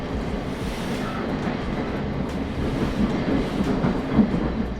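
Interior of a Great Northern Class 717 six-car walk-through electric train on the Northern City Line between Moorgate and Welwyn Garden City or Hertford North, a steady low rumble and hum of running gear with faint rhythmic wheel clatter.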